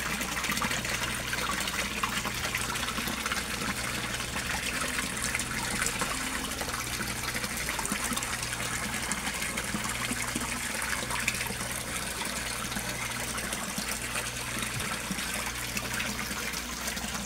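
An Aquaspeed submersible water pump and a Resun aerator run in a koi pond, giving a constant loud wash of splashing, gushing water over a low steady pump hum.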